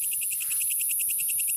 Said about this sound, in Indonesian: Kalau di sini sebutnya jangkrik kaliong.